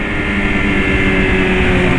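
A BMW S1000 motorcycle carrying a passenger on the road, its engine roaring at high revs in a loud, continuous, close drone that holds steady throughout.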